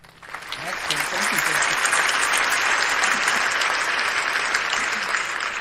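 Studio audience applause swells in within the first second and stays full and steady, with a brief bit of speech at the very start.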